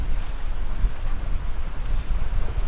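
A strong, sudden wind roars and buffets past a small sailing yacht off the Mull of Kintyre, a loud, continuous rumbling gust with low booming microphone wind noise and faint water rush beneath.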